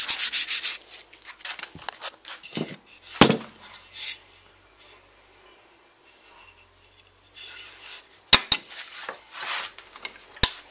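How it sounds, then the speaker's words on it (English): Sandpaper rubs against a wooden pickeroon handle in uneven scratchy strokes, close by, broken by a few sharp knocks and quieter pauses. "Sand it off now."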